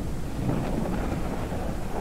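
Thunderstorm in the farming video game Ranch Simulator, a low continuous rumble of thunder over steady rain, moderately loud with no talking.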